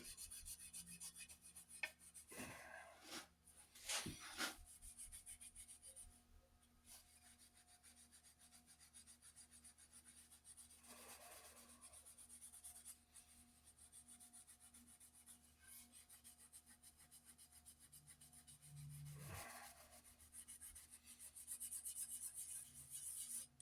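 A Scotch-Brite pad scrubs the head of a modified Council Tool racing axe on an Australian racing handle, giving soft, dry rasping strokes in a few short bursts over a steady background hiss.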